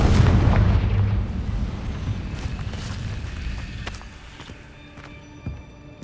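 A Confringo fire spell in Hogwarts Legacy blasts with a loud, deep boom at the start that rolls off into a long rumbling decay, followed by fainter scattered thuds and small crackles.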